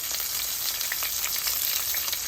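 Garlic fries in a pan for a curry, giving a steady, close sizzle with a soft crackle throughout and no voices.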